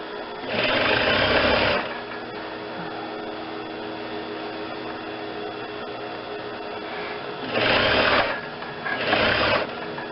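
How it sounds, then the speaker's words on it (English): Sewing machine stitching a stretched Lycra collar onto a jacket, running in two loud close bursts, a long one near the start and two shorter runs near the end, with a quiet pause of low hum between. "stretch that Lycra till it fits on the jacket, and sew all the way around it, stretching as you need to"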